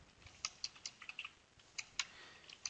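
Close, fairly faint keystrokes on a computer keyboard as code is typed, irregular clusters of light clicks with short pauses between bursts, no voices.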